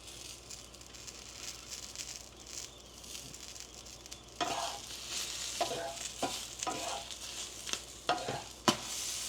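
Shishito peppers blistering in a hot pan, a steady sizzle that grows busier and louder halfway through, with sharp pops and crackles scattered over the constant frying hiss.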